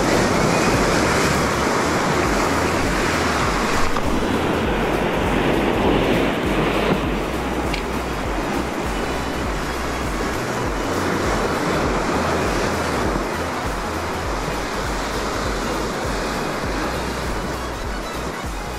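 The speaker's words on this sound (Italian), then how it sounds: "il mare sta iniziando ad alzare un po'" Sea waves roll and break on a shore during a spinning session for sea bass, a continuous loud wash of surf with wind noise on the microphone and no talk.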